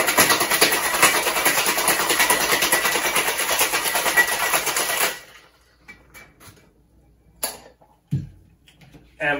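Ice rattles hard and fast in a cocktail shaker while a Lion's Tail cocktail with homemade allspice dram is mixed. The loud shaking lasts about five seconds, then stops, leaving a few faint clinks and handling sounds.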